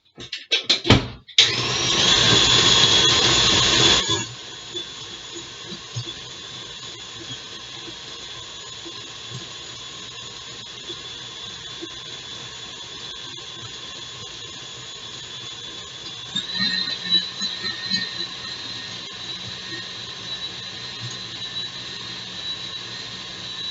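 Electric mixer beating a yellow, granular biscuit mixture: a loud grinding whirr in a short burst near the start, then a quieter continuous mechanical running with a brief louder patch later on.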